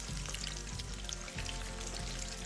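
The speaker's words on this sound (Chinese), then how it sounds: "再一次大火油炸。" Tofu puffs deep-fry a second time in hot oil over high heat, giving a steady, dense sizzle and crackle that holds evenly throughout, close and alone.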